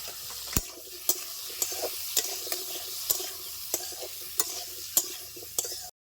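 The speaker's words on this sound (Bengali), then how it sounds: "আলুগুলি ভাজা হয়ে গেছে, উঠিয়ে দিচ্ছি" Steady low sizzling of potatoes with turmeric and salt frying in a pan, with a spatula clicking and scraping at a regular pace about twice a second, close by.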